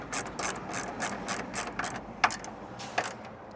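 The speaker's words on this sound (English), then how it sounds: "now we can reinstall our two 10mm bolts." Ratchet clicking rapidly in short repeated bursts while tightening two 10mm bolts on a Toyota Tacoma tail light, close and fairly quiet, with a couple of sharper knocks near the end.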